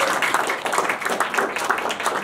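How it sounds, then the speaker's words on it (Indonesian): Audience applause during a stand-up comedy show in Ansan, Korea: dense, steady clapping from a crowd, moderately loud and continuous throughout. "Boleh tepuk tangannya dulu."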